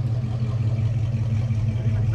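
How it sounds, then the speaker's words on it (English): A car's exhaust rumbles during a burnout outdoors, a deep steady drone with a low throb that stays even, neither climbing nor dropping, under the noise of the onlookers. "The exhaust sounds good."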